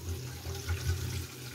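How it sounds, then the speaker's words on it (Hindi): Water poured into a pan of frying curry masala on a home stove, a soft steady liquid splash and trickle over a low background hum, close by with no talking. "तो इसमें चलिए पानी ऐड करते हैं,"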